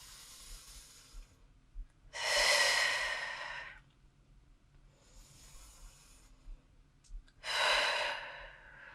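Slow breaths during a core strength workout: two long, loud exhales stand out against quieter inhales, close and alone with no talk.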